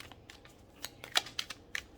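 Tarot cards being shuffled by hand, a series of soft papery flicks and sharper snaps at irregular intervals, close and quiet, with no talk.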